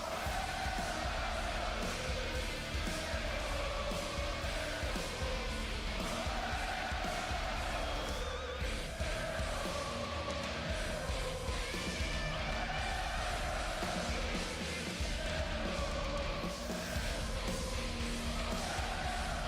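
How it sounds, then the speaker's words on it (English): A wrestling arena crowd at a WWE Raw event keeps up a dense, steady roar of cheering and yelling throughout, loud and continuous with no breaks. "Listen to the crowd."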